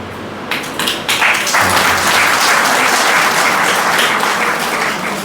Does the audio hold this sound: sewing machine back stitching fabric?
no